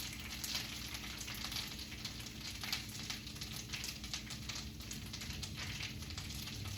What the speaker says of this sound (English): Now it's really bubbling and boiling.